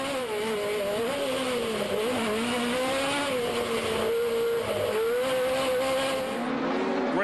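A Pro Lite off-road race truck engine roars loudly from onboard during 2010 Lucas Oil off-road racing in Las Vegas. The pitch rises and falls steadily as the throttle is worked through the whole stretch.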